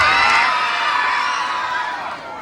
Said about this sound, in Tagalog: Wala rin po bang hiyawan dyan?